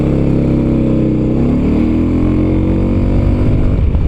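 A Suzuki Burgman 250 scooter pulls away from traffic lights, its engine note rising steadily in pitch as it accelerates, loud and close throughout.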